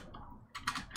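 Keys on a computer keyboard clatter in a short burst of quick, close typing after a brief gap of near silence.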